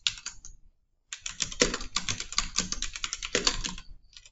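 Computer keyboard typed on up close while writing VBA code, rapid clicky keystrokes in quick bursts with a short pause near the start and no voices.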